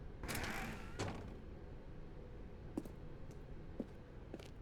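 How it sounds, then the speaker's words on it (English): A red door opening in The Stanley Parable: Ultra Deluxe on PS5, a soft creaking mechanical swing followed by a few faint clicks and ticks over a quiet room-tone background. "Stanley walked through the red door."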